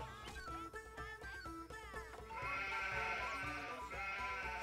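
Sheep bleat in the medieval trade-building game Anno 1503, several short wavering calls over a busy backdrop of game music and effects, growing into a fuller tonal wash in the second half.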